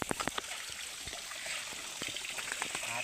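Cold spring water pours from a stone spout in a Nepali village, giving a steady trickling splash close by, with scattered drips and gurgles over a constant hiss.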